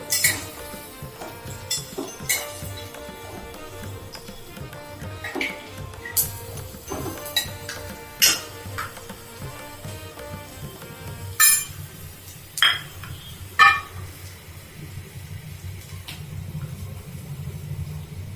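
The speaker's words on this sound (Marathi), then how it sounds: "शेंगदाणे हे सगळं छान असं परतवून घ्यायचंय" Peanuts, cardamom and cloves are stirred and sautéed in a pan, with scattered metallic clinks and scrapes of the spoon over a low, steady background hum, for Khandeshi brinjal rice.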